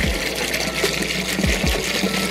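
Water pours steadily into a bathtub to whip up bubble-bath foam, a loud continuous splashing gush with a couple of deeper glugging surges partway through.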